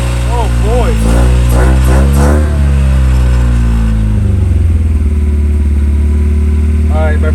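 A car engine starts with rising and falling revs while people talk excitedly over it, then settles into a loud, steady, close idle for the rest of the clip.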